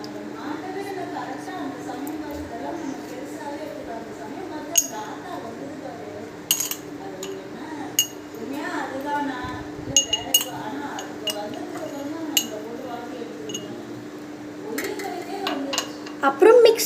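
Cocoa powder and melted butter being mixed into brownie batter in a bowl, heard as scattered light clinks of a utensil against the bowl over a steady low hum, with a voice now and then.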